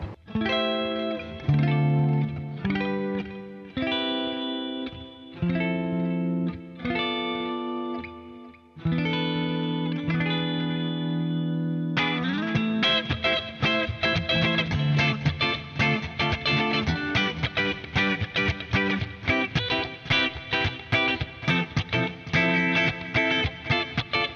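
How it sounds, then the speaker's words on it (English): Les Paul Studio Session electric guitar with a funky, effects-laden tone: choppy chords at first, then busier strummed rhythmic playing with chorus shimmer, loud and alone. "It's not uncommon for me to need like a funk guitar sound, right?"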